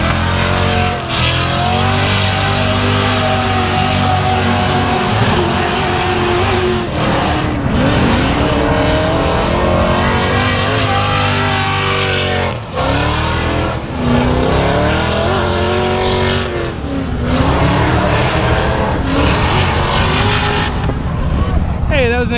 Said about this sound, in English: An exceptionally good run by that driver in the Donut Media sponsored car